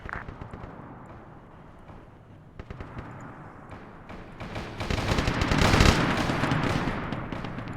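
Mortar rounds fire and impact in a Warhammer 40k military game operation, heard as a dense, rumbling stretch of repeated thuds and blasts that builds to a louder peak before easing off.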